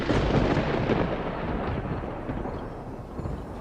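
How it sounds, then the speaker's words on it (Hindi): Thunder cracks close by in a storm, a loud, sustained rumbling roar that fills the whole clip and slowly fades over a few seconds, with no voices. "तब एक तेज बिजली कड़की"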